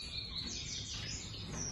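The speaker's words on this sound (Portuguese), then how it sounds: "Aí tá as fêmeas de coleiro" Female coleiro finches in a cage chirp and tweet in rapid, dense bursts that continue without a break, fairly loud and close, with no voices.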